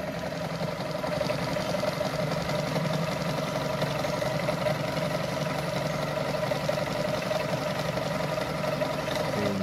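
Brother Pacesetter Super Deluxe sewing machine stitching a design, a steady close mechanical hum and rapid needle chatter running continuously with no talk.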